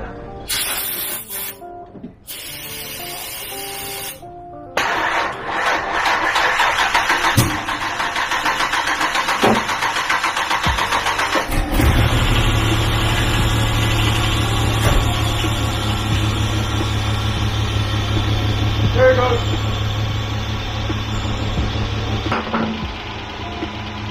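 A 30-year-old, long-unserviced Ford Explorer engine cranks and catches, then idles roughly and hesitantly with a steady low rumble. It is loud and close, with a few stumbles in the running.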